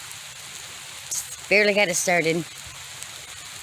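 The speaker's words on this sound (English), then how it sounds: "So now it's raining." Rain falling on a food-forest garden in April, a steady soft hiss of drops in the background while a person speaks briefly over it.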